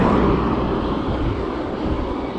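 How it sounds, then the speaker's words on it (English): A car passes a cyclist on the road, a steady rushing swell of tyre and wind noise close by, loud and continuous with no talk. "Right, there's a car coming."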